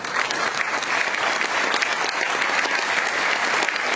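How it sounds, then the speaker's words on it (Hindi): An audience claps steadily and continuously in a hall as the chief guest is welcomed at a speech event, a dense, even wash of applause with no pauses. "सभी से अनुरोध करूंगा कि तालियां बजाकर इस स्वागत की बेला का धन्यवाद बनाने का अनुरोध करूंगा।"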